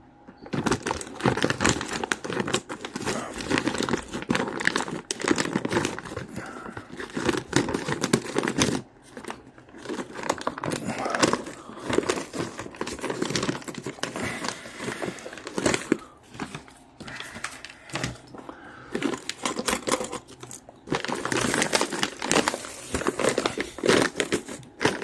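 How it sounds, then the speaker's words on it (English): Scissors cut and crinkle through a plastic CoinLOK bag holding fifty dollars in pennies, a steady run of close, loud crackling and snipping with brief pauses, no talking. "I'm just going to cut it where it's easy to get the coin out."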